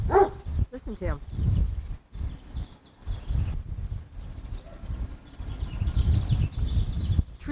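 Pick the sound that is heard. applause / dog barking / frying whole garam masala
dog barking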